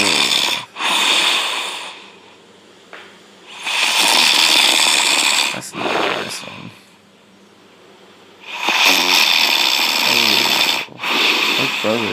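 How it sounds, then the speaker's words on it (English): Recorded loud snoring played back, long rasping snore bursts repeating in a slow rhythm with quiet gaps between, close and harsh, with brief breathy snorts in between. "We're gonna do snore 3"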